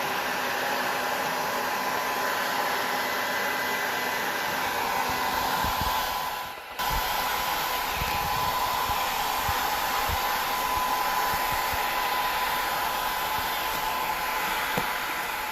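A heat gun blows a steady, loud, even roar while warming vinyl wrap material on an RV countertop, with a brief dip partway through and no speech.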